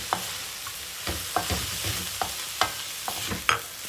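Chopped onions are stirred into frying mushrooms in a pan. A steady soft sizzle runs throughout, broken by repeated light scrapes and clicks of the spoon against the pan. The sound is close and quiet, with no voices.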